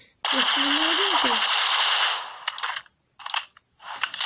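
Gunfire in the mobile shooter Critical Ops: a sustained burst of rapid shots followed by shorter bursts, with a voice reacting partway through.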